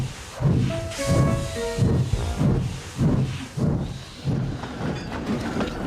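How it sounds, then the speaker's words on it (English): An animated steam engine train chuffs along the rails in a steady rhythm of loud puffs with hissing steam, whistle-like tones briefly sounding over the rhythmic exhaust. "Henry snorted away, Gordon yawned and went to sleep."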